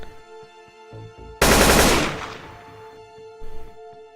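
Gunfire in the strategy game Xenonauts: a single sharp loud shot burst that trails off in a ringing decay, set against a faint humming music bed with softer clicks before and after.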